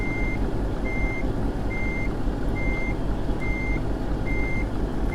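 Steady, evenly spaced reversing beeps sound over a loud, constant diesel truck drone as a big rig backs a trailer toward a loading bay at a distribution center in American Truck Simulator.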